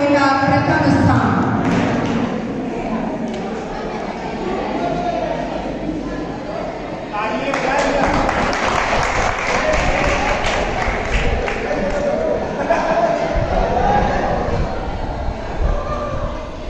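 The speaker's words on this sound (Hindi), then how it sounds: "बच्चों तालियां बजाते रहिए" A crowd claps steadily at a college prize distribution during a cultural programme, the broad, sustained applause rising and falling while an announcer speaks over a PA.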